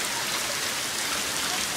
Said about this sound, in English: some very heavy rain falling in the Hermiston area